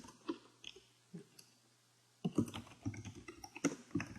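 Computer keyboard typing programming code, sparse quiet key clicks at first, then a faster run of keystrokes, close and alone.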